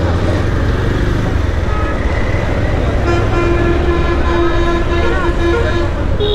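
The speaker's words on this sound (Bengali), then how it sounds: "হর্ন কে বাজাবে না বলেন? এটা বাজাতেই হবে।" Road traffic on the way from Mohipal toward Noakhali, with engine rumble and a vehicle horn tooting in short repeated honks amid the steady roadway din, and no talk.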